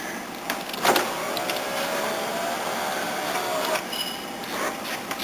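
A rebuilt car door's power window motor whirs as the glass runs down, a steady electric drone with a couple of clunks near the start and end, close and clear with no talking.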